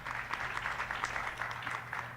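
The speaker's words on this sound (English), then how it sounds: "let's give Phumlani a round of applause" Audience applause at a regional business fair, a steady wash of many hands clapping throughout at moderate, fairly distant level, with a low hum underneath.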